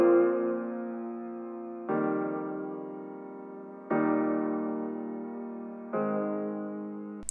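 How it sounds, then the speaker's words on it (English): Four sustained piano chords with a wobbly retro tape-style warble, each struck and held for about two seconds in a slow steady sequence, alone and up close. "this song starts out with these pianos and they sound like this"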